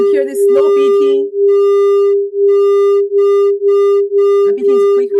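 Two close sine tones combine into a loud, steady hum that pulses in quicker regular beats, roughly two per second, with a lecturer speaking over the opening and closing moments.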